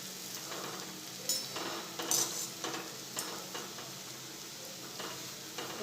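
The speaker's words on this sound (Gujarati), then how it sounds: "તો આ રીતે આપણે બધા વડાને તળી લઈશું." Dahi vada batter dropped into hot oil and frying over a medium flame, a steady close sizzle with occasional louder bubbling spurts and light utensil clinks.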